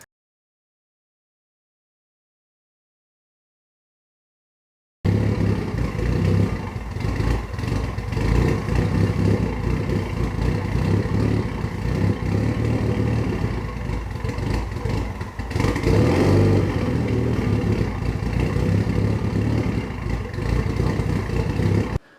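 A Mitsubishi Evo engine runs at a rough idle, a steady close rumble with clattering texture that holds for around seventeen seconds after a silent start, with no talking.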